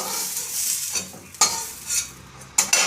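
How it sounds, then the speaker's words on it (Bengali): Potatoes lightly frying in a pan, a steady soft sizzle broken by a few sharp scrapes and clinks of a spoon stirring against metal, close and fairly quiet with no talking. "আলুটা হালকা করে ভেজে নিলাম, এবার তুলে নেব।"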